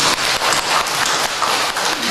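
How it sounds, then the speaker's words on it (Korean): Congregation clapping at a Sunday service in a Jinju family church, a dense, steady wash of many hands that fills the whole stretch without pause or talk. "감사의 박수를 드리겠습니다"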